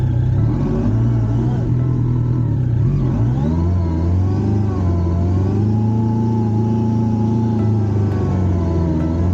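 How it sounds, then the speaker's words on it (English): A motorcycle engine stuck in mud revs hard and continuously, its pitch rising and falling as the throttle is pulled, loud and close with a deep rumbling tone. "There you go, gunning it, pulling the throttle a bit more, giving it more gas"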